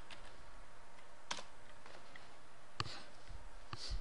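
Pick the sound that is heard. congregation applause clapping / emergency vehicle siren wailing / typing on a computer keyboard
typing on a computer keyboard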